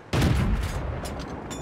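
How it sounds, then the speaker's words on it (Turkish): Tank cannon fire in World of Tanks: a single loud, close blast followed by a rumbling decay with a few fainter shots trailing behind. "Birileri ateş ediyor."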